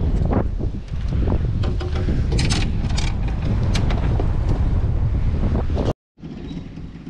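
Strong wind buffets the microphone outdoors by shallow water, a loud continuous roar with gusty surges and a brief drop-out near the end, with lapping water underneath.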